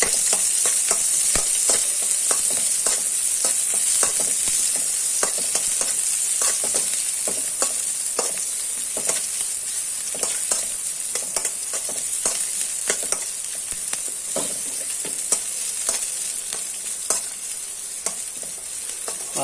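Garlic and onion sizzle steadily in a hot pan, with a constant frying hiss broken by frequent scraping stirs of a spatula throughout, close and fairly loud, no voices.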